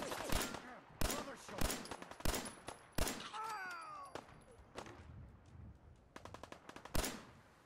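Enemy gunfire in Fallout 4, with sharp repeated shots cracking in irregular bursts, some single and some in quick rapid strings, and a few faint electronic game tones between them.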